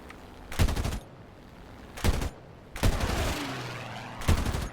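Aircraft guns firing at a Bf 109 in the War Thunder combat flight game, heard as four loud bursts of rapid gunfire separated by short pauses, with engine drone steady underneath.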